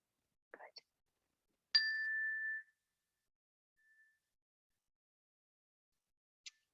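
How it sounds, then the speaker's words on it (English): A small bell rings once in an online gentle chair yoga class, a clear sustained tone that fades after about a second, with a few faint brief clicks and ticks around it. "I would like to ring a bell as a gentle reminder to come to this moment right now"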